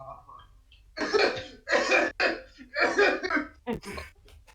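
A series of four or five harsh, throaty coughs in bursts, close by, ending with a few short choked sounds.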